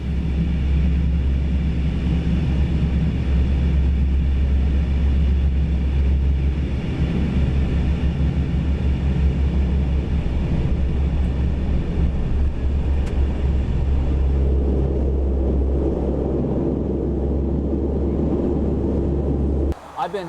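Inside the cockpit of a First Air airliner, the engines put out a loud, steady low drone with a constant hum. It runs unbroken for the whole stretch and cuts off briefly at the very end.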